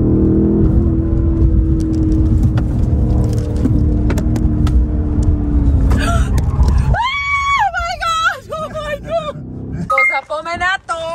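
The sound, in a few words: BMW M850i Gran Coupe driving off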